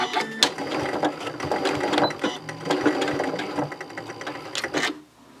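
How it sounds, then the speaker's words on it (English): A Continental M7 Professional sewing machine with an open toe foot stitches fabric at a stitch length of 2.4 with a fast, even mechanical whir and clatter. It runs close and steady for about five seconds, then stops abruptly. "on the Grommet Continental M7 Professional Sewing Machine"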